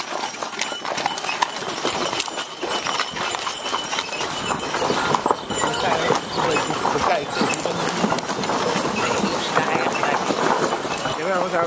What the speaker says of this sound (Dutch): We zijn lekker onderweg met de paarden.